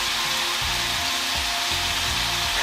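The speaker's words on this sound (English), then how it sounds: "Now we're going to leave the meat to cook for a little while so that it does get really brown and it really has a chance to caramelise." Chicken meat browning in a pan for a chilli chicken ramen, giving a steady broadband sizzle with low thumping and rubbing noises underneath, close and continuous with no talk.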